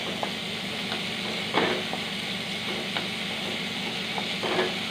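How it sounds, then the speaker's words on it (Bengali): Onion frying in a pan with garlic and tomato for dal makes a steady low sizzle, with a few soft stirring scrapes and light taps of a spatula. "এই পেঁয়াজটা কিন্তু ডালে পরেও অ্যাড করা যায়। এরকম করে একটু ভেজে নিতে হবে।"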